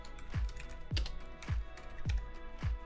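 Faint, slow keystrokes on a computer keyboard while a title is typed into a Google Doc, about five separate taps spaced roughly half a second apart.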